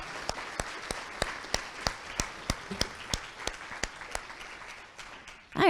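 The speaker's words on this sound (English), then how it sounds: "let's give them another round of applause" Audience applause for youth speakers at a youth talks event, sparse individual claps ringing out over a thin bed of clapping before fading, with a voice starting at the very end.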